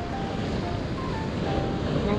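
Rough open-sea surf pounds the rocky Chiba shore in early April while strong wind buffets the microphone, producing a steady, loud, continuous roar with no break in its level.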